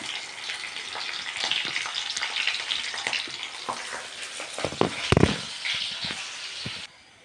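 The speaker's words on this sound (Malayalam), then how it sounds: "വെളുത്തുള്ളി പച്ചമുളക് വേപ്പില കടുക് പൊട്ടി ഇതിലേക്ക് ഇട്ടു" Garlic, green chili and curry leaves fry with popping mustard seeds in hot oil for a fish curry, a dense, continuous close sizzle with a few sharper stirring clatters near the end.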